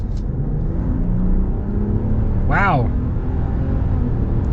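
Ram 1500 pickup truck with an inline-six engine accelerating, a constant loud cabin rumble of engine and road noise, with one short voiced exclamation over it midway.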